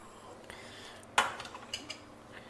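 A spoon stirs masala puri in a metal pan. Faint scraping is broken by one sharp clink and several lighter taps of metal on metal.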